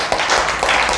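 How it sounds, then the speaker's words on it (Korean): A church congregation bursts into brief, dense applause at the close of a Wednesday worship service, a steady wash of many hands clapping together at close range. "박수로 하나님께 영광."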